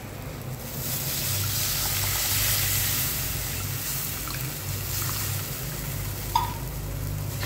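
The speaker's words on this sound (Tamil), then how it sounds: "இப்போ வந்து நம்ம ஊற போட்டு வச்சுருந்த புளியை கரைச்சி தண்ணி மட்டும் நம்ம இது கூட சேர்த்துக்கலாம்." Tamarind water is poured into hot masala in a clay pot for netili fish kuzhambu, a loud steady sizzling hiss that swells and then settles, with a small clink near the end, no talk.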